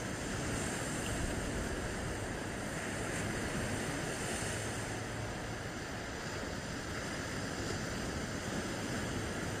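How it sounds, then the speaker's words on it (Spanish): Small ocean waves at Sardinero beach at eight in the morning make a steady, even wash of surf with a wind-like hiss, continuous and fairly distant, with no voices. "al sardinero parece que hoy le está saliendo una olita muy pequeña, pero un poquito más que ayer"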